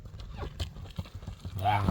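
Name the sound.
horse galloping hooves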